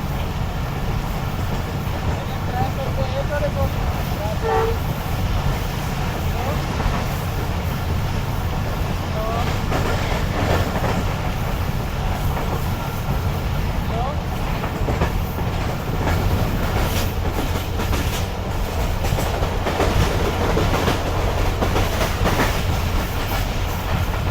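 The Shalimar Express, hauled by a ZCU locomotive, rolls through the small Adam Sahaba railway station with a loud, continuous rumble and rhythmic clickety-clack of wheels on rails, heard close from on board.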